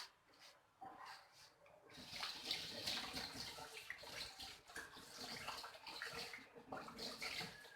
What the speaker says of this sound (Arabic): شديته شويه بالماء